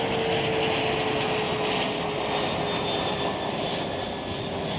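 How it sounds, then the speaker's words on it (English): A United CRJ 200 regional jet arriving at Chicago O'Hare makes a steady, loud engine roar with a thin whine throughout, heard from fairly close and without talk. "It's United Flight 5112 arriving from Salina on a CRJ 200"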